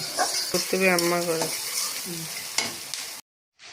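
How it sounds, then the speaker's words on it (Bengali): Onions frying and being stirred in a pan for a home-style chicken curry: a busy close sizzle with spoon scrapes and clinks, and a short tonal squeak partway before the sound cuts off abruptly. "পেঁয়াজটা লাল হয়ে গেলে মশলাটা ঢেলে দেবো।"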